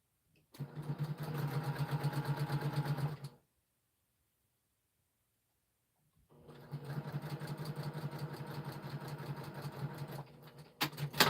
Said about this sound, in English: So I'll sew these two together.